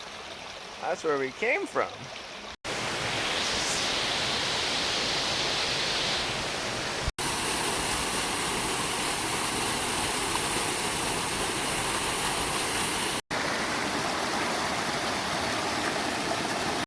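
Broad steady rushing of a flowing river at the confluence of two rivers, loud and continuous after a brief spoken line, with the hiss holding evenly through the rest of the scene.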